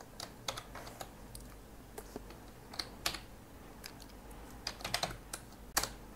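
Quiet, irregular clicking of keys on a computer keyboard, single taps and short bursts of typing heard close up in a calm room with no voices.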